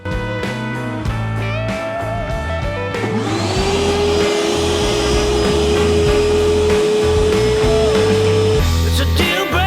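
A DeWalt DXV234P vacuum with a DXVCS002 cyclone separator sucks up cement. Clattering and rattling give way to a loud, steady high-pitched motor whine and rushing airflow that continues to the end.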